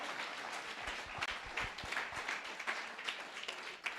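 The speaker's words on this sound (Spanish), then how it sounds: "Dale un fuerte aplauso a Jesús" A church congregation claps during a sermon, a fairly faint, steady round of applause filling the room with a few louder individual claps near the front.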